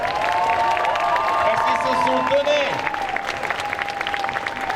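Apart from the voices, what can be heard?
audience applause at a cosplay show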